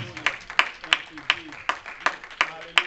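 Sharp, evenly spaced hand claps from a church congregation, about three per second, repeating steadily over a faint preacher's voice.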